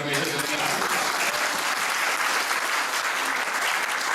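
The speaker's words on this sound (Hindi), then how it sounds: "ताली बजा के" Loud, sustained applause from a large audience at a Hindi church sermon, a thick continuous roar of clapping with no pauses.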